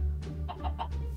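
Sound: chickens clucking in Minecraft, a video game

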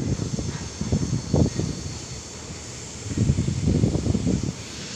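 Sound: strong wind blowing at railway platform

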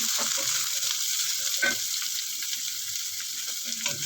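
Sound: garlic, onion and chili frying in hot oil

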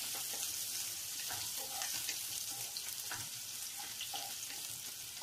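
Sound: onion frying in a pan over medium gas

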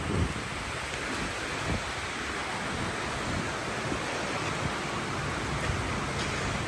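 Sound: rain

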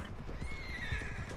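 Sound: horse neighing and hooves clip-clopping

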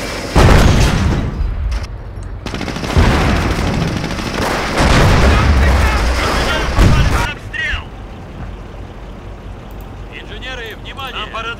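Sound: anti-tank gun firing in Company of Heroes video game

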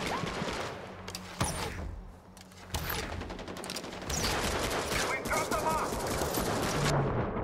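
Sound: gunfire in a Far Cry 4 multiplayer video game match

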